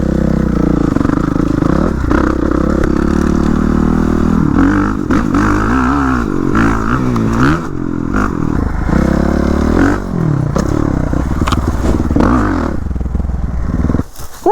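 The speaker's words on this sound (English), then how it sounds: "Ringing in the new year with dirt bikes." A Suzuki RMZ-450 dirt bike ridden on urban trails, its engine roaring loud and close throughout, revving and shifting pitch, with clattering and scraping from the terrain.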